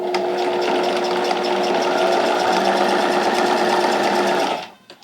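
A sewing machine runs steadily, re-sewing the seam of a two-layer vinyl pouch with a loud, even motor whir that stops abruptly near the end, followed by a couple of small clicks.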